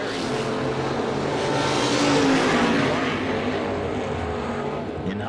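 At a drag strip, a 1963 Chevy and a 1970 Camaro launch and race, engines roaring loud and steady as they accelerate away, with a crowd-like wash of noise.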